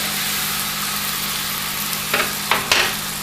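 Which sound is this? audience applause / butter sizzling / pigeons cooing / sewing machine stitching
butter sizzling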